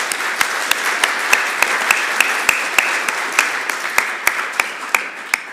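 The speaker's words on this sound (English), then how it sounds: "how about a round of applause for our sponsors" A conference audience at a tech talk applauds its sponsors with a broad wash of clapping, a few nearby hands standing out as sharp, regular claps over the crowd.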